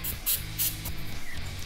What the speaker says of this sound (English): I know that this carb is clean just by spraying it through all the carb orifices